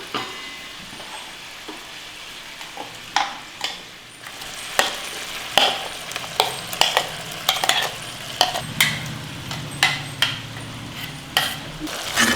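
Ground masala paste is stirred into a hot frying pan, with a soft steady sizzle under repeated scraping knocks of a spoon against the metal, close by and with no voices.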